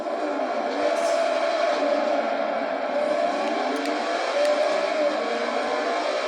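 Five-cylinder car engine in Call of Duty, revving steadily and loud with a sustained droning pitch that rises and falls, under a constant roar throughout.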